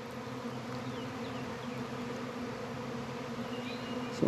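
A swarm of honey bees fills the air with a dense, continuous humming buzz, steady and fairly quiet, individual bees occasionally passing closer.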